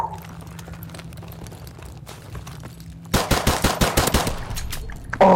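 Call of Duty 4 Remastered gunfire from a pistol bursts in as a rapid string of loud, close shots after a few seconds of quieter in-game ambience, ending with one more sharp blast.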